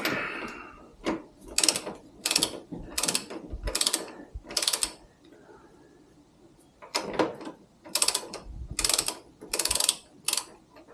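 A hand ratchet turns the axle nut on a Harley-Davidson MT350 motorcycle during a service. Quick, close clicking bursts come in two runs of about five strokes each, separated by a brief pause.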